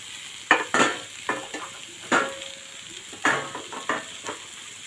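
Scrambled egg tossed into a frying pan and stirred, a steady sizzle punctuated by repeated scraping strokes of a spatula in an uneven rhythm, close and fairly loud, no speech.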